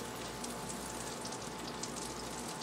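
A large hunk of butter melting in a pan over medium heat, its water content bubbling off in a faint, dense, even crackle with no pauses, heard up close and alone.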